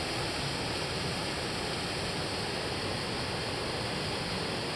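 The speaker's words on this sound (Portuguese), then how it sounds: "Cachoeiras do Parque do Caparaó." Waterfall in Caparaó National Park, heard as a constant, even roar of falling water, a broad wash of rushing noise with no breaks or other sounds for the whole few seconds.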